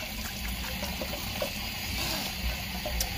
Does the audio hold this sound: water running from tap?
yes